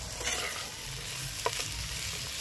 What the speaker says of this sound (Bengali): দেখো আলুটা দেওয়ার পরও কিছুক্ষণ ভেজে নিয়েছি, সমস্ত লাল হয়ে গেছে সব।